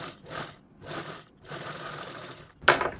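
An electric sewing machine topstitching an invisible zipper on a pillow cover, three short bursts of rapid whirring stitching separated by brief pauses, close and clear.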